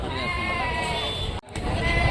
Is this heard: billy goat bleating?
yes